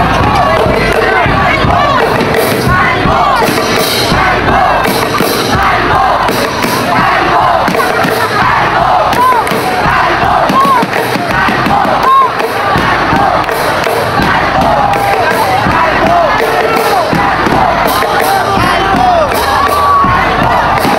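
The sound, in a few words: basketball crowd of Binangonan fans shouting and chanting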